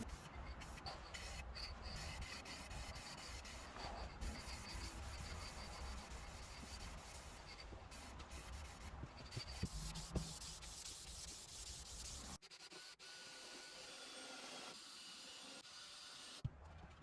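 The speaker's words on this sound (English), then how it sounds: "Now I started to sand the base and then the whole frame" Sandpaper rubs steadily over a wooden dog bed base and frame, a dense, close scratchy hiss with brief pauses, easing to a quieter, lighter rubbing near the end.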